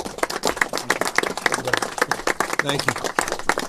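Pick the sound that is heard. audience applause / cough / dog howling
audience applause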